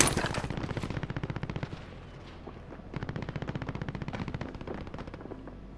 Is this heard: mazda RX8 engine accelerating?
no